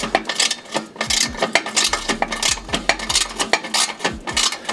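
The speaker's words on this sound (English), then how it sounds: "When you're tightening these bolts, you want to go as evenly as possible to make sure that you get a good seal and to prevent exhaust leaks." A ratchet tightens exhaust bolts during an aftermarket exhaust install on a Gen 2 Ford Raptor 3.5 EcoBoost. Rapid, close clicking comes in bursts with short pauses and faint metallic clinks between them. No talking.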